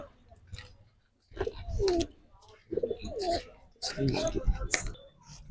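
Pigeons coo in low, throaty bursts close by, with clicking and shuffling sounds between the calls.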